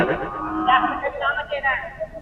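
Bulls lowing at a rural cattle market for local Gavran and Khillari bullocks, with several loud, drawn-out moos overlapping close by for the whole stretch.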